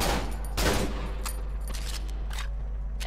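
Gunfire in the horror video game Cry of Fear: a few sharp shots crack out over a steady low game hum, with a burst near the start and scattered reports after, no talking.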